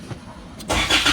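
A 2019 Isuzu MU-X that had a no-crank, no-start fault cranks and catches at close range, jumping from a quiet hum to a louder running engine partway through the short moment.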